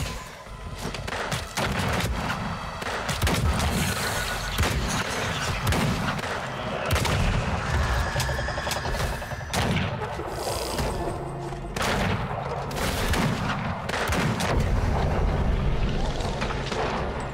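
Dense, continuous gunfire rages throughout a Weird West firefight, overlapping shots and rapid bursts crackling loudly and steadily for over fifteen seconds with no pause.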